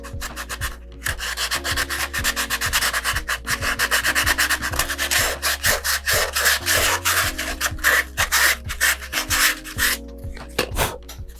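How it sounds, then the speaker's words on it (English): Sandpaper rubs back and forth over the fiberglass cloth edges on a cardboard model rocket tube, a steady close scratchy rhythm of strokes continuing throughout without speech. "can take some sandpaper and sand those down"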